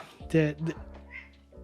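Two male cats indoors give a brief loud meowing squabble, with a sharp burst of cries followed by fainter grumbling sounds.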